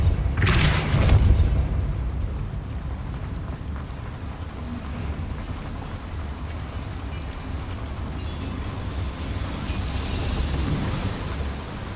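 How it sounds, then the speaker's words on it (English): A Repulsor spell blast in Hogwarts Legacy, set in an underground mine, lands as a sudden loud boom at the start and then trails off into a low, sustained rumble. "Repulsor."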